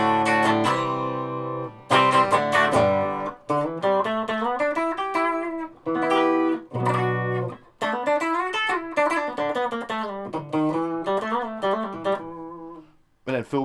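Clean electric guitar chords and picked notes from a handmade Telecaster ring out through an Orange amp's clean channel with a touch of reverb, played alone in short phrases with brief pauses.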